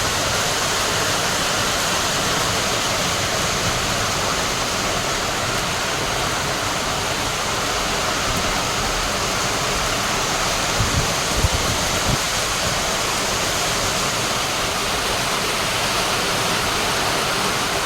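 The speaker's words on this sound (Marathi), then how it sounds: "गारा पडताय दिसतो." A steady, dense roar of hail pounding surfaces, broadband and continuous, with a couple of brief low thumps near the end.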